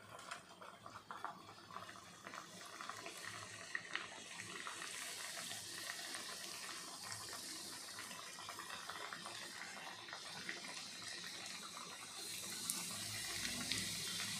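Crisp semolina shankarpali, a Diwali snack, fry in hot oil with a faint, continuous bubbling sizzle. The hiss stays steady and quiet throughout, with slight crackles rising toward the end.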